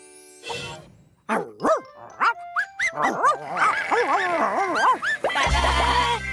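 A sheepdog barks in short, lively yelps mixed with bleating sheep, several animal calls in quick succession, loud and close.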